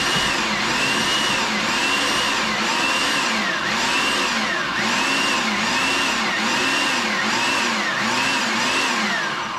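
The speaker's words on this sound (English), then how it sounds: "Now, I use the pulse to chop option, and I hit it about 10 or 12 times" Food processor chopping cauliflower in about ten rapid pulses, a loud whirring motor that rises and falls in a regular rhythm, each burst spinning up and cutting off, close and with no voices.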